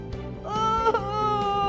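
A storyteller's voice imitates a goat, giving a short, nasal, wavering bleat near and clear, with no other talk.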